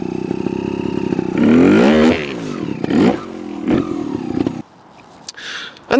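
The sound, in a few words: Yamaha TY 250 trials motorcycle revving up a steep step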